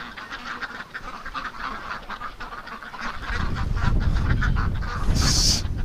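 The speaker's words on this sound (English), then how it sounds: "Oh, silly ducks." Ducks crowd inside a barn in winter, quacking and honking loudly and continuously as a flock, growing louder in the second half with a sharp burst of calls near the end.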